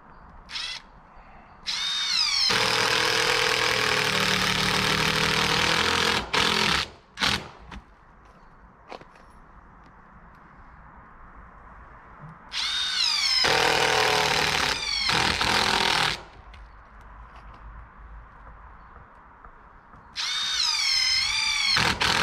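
Drill driving screws into wood while repairing rotten wood in an abandoned mobile home, with several long, loud, close whirring runs separated by quiet gaps and small knocks.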